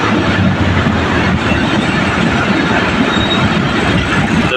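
A train moves through a Pakistani railway station, a loud, continuous rumble and rattle of wagons and wheels with hints of squeal, close by and unbroken.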